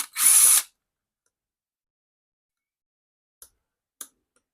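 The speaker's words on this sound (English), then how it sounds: "Okay, let's put the drill back down." A cordless power drill whirs in one short, sharp burst while backing screws out of a GPZ-7000 metal detector's casing, followed by quiet and two faint small clicks of parts being handled.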